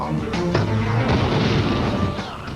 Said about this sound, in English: See, this is my gravity bomb.